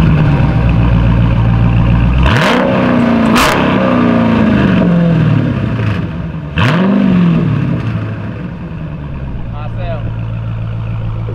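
A straight-piped widebody Dodge Scat Pack engine fires up with a loud crackling start, then rumbles rough and revs again, very loud and close with people talking over it.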